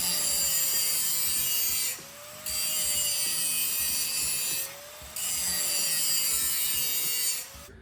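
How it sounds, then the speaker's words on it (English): A handheld grinder pressed lightly on metal, flattening weld prep between passes, gives a steady abrasive scraping hiss with a whining tone, in three long strokes separated by short pauses, close and without talk. "you can hear the type of pressure that I put on the grinder"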